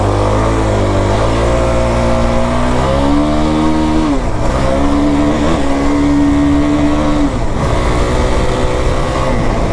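A 450-class sport ATV quad, Yamaha YFZ450R or Kawasaki KFX450R, revs loud and close while riding, its engine pitch climbing, dipping and surging again with throttle changes through turns.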